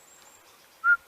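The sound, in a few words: bird whistling like a person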